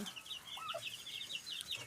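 Hens clucking softly with a brief rooster-like call, over a steady high chirping background; no talking.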